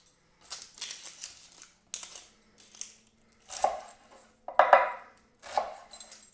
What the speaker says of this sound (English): Just chop your onion up really, really, really small.